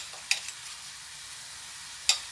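Tomato sofrito sizzles softly in a pan with a steady frying hiss, broken by a few sharp scraping clicks as a utensil stirs it, close and with no talking.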